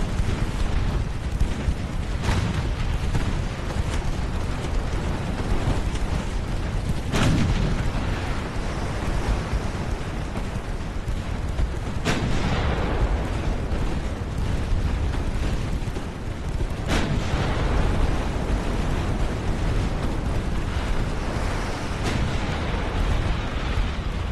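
Torpedo hits and naval gunfire in the warship strategy game Ultimate Admiral Dreadnoughts rumble as a continuous heavy roar, punctuated by several sharp, loud explosions spaced a few seconds apart, with no speech.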